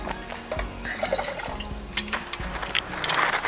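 Water poured into a measuring cup for soup from a military ration: a short splashing, trickling pour with bubbly gurgles, close and moderately loud, without talk.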